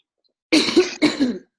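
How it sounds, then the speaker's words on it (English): Two sharp, close coughs from a person recovering from flu, in quick succession, with silence before them and no talking. "I still have my cough from the flu"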